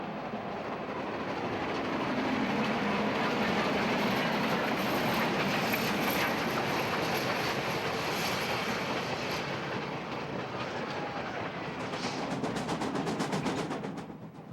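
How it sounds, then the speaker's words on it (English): A Grand Canyon Railway train rumbles steadily out of the yard with dense rolling wheel noise and faint clatter, a continuous loud roar building toward the end. "the train chugs out of the yard through colorful carpets of sunflowers"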